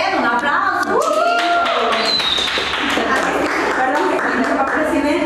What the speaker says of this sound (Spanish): Aquí en el set, un aplauso.